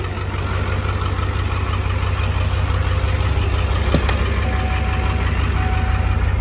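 A 7.3 IDI turbo diesel engine with a 5-inch straight pipe idles steadily, a loud continuous deep rumble with a faint clatter and one brief click partway through, no voices.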